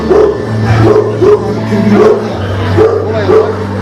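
A Karaman dog barks close by in a steady series of short, loud woofs, each one evenly spaced, with a low background hum running underneath.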